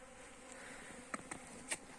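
Honey bees buzz around a freshly set feeder, a steady near drone with a few louder buzzes as individual bees pass close, no voices.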